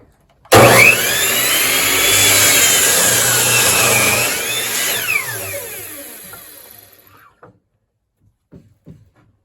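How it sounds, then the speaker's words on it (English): A power tool cuts a 2-inch block of sapele wood for a cutting board, loud and close. A steady whine with rising and falling pitch runs for about five seconds, then winds down, followed by a few faint knocks. "Now we're going to start cutting the 2-inch blocks of the sapelli."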